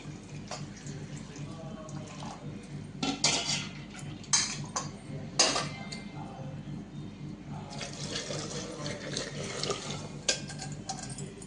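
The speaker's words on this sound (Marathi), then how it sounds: "हे बघा गरमच पाणी टाकायचं आणि इथं डाळ उरली होती ना थोडीशी तर मी ते धुवून घेते" Hot water runs into a cooking pot to rinse out leftover dal in a home kitchen, a steady close splashing and trickling with a few louder bursts and faint clinks of the vessel, no talk.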